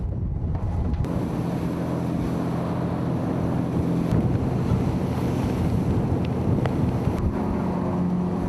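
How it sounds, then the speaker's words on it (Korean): Wind roars constantly while heavy waves over 3 meters churn and crash around a fishing boat in the East China Sea amid rain, loud and continuous with no voices. "비가 또다시 내리며 3m가 넘는 파도가 치기 시작했다."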